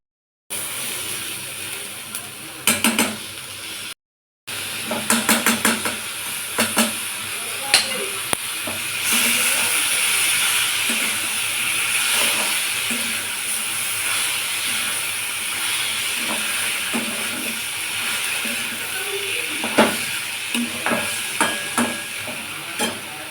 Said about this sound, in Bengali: এইবার এর মধ্যে সেদ্ধ করে রাখা শাকটা দিয়ে দেবো